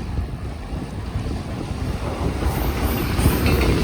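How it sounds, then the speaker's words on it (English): A low, rumbling rush of a train going by on a road between Joetsu and Toyama, Japan, broad and steady with wind-like noise, gradually getting a bit louder toward the end. "Comes the train."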